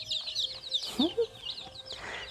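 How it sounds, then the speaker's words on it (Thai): A one-day-old white-feathered fighting chicken chick gives a few soft, high chirps, faint and close against a quiet room background. "นี่เขาเรียกว่าไก่ชี ไก่ชนขนขาวนั่นเอง"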